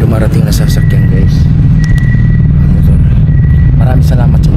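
A vehicle rolls through the Kaybiang Tunnel, a loud, continuous low rumble reverberating in the enclosed space, while voices talk throughout.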